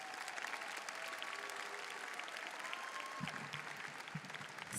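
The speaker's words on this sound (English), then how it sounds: "Let's clap for that, seniors." A Pattonville High School graduation audience claps for the seniors, sustained even applause from a large crowd, heard at a distance and fairly faint.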